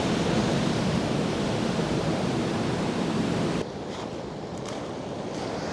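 Heavy surf on a remote beach in General Nakar, Quezon, Philippines roars steadily up close, then abruptly drops to a quieter, softer wash of waves for the final seconds.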